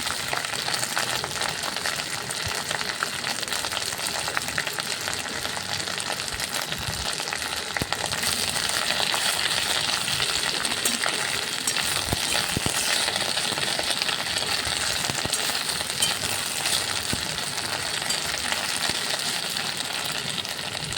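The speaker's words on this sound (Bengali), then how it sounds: "সজনে শাকটা দিয়ে দিলাম ভালো করে নেড়ে চেড়ে নিচ্ছি" Drumstick leaves with a pinch of nigella seeds stirred in a hot pan, giving a steady broadband sizzle with scattered small clicks and scrapes throughout, close and continuous with no talking.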